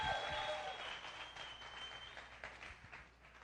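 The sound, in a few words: audience applause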